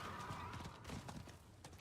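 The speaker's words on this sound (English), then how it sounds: "Get on our high horse" A horse mount gallops in Diablo 4, its hooves clip-clopping in a quick, quiet rhythm for a moment.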